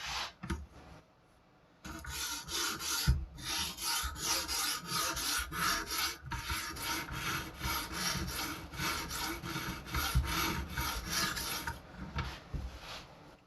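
A carving knife is drawn back and forth over a sharpening stone in steady, rhythmic rasping strokes, close and fairly loud. A brief pause comes near the start, and no one speaks.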